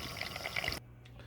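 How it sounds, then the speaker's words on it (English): Cold water is poured into flour for soup, a steady close trickle and splash that runs for under a second and then stops abruptly, leaving a quiet hum. "I want to add cold water, just enough"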